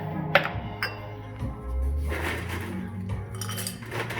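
Glassware clinks and crushed ice rattles and shifts as glasses are iced down for a mixed drink, a few sharp chinks followed by a softer scraping, close and fairly quiet.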